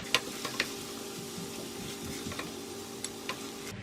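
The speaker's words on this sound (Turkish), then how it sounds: "Biraz da böyle kavuracağım" An eggplant mixture sizzles steadily in a hot pot, with a few sharp clinks and scrapes of a utensil stirring now and then.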